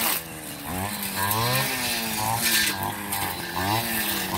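A grass cutter engine runs in a rice field, a loud nearby buzzing drone that rises and falls in pitch as the throttle revs repeatedly.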